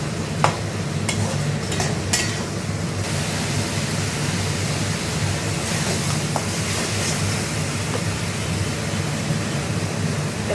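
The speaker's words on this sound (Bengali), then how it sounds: "চালটা দিয়ে একটু ভাজবো" Rice sizzling and being stirred in a hot pan, a steady close frying hiss throughout, with a few sharp scrapes and clinks of the spoon against the pan early on.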